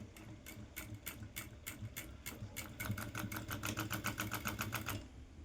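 Sewing machine stitching the neckline of a blouse, running in quick repeated bursts of rapid needle clatter that pause briefly and speed up again, close and steady throughout with no talking.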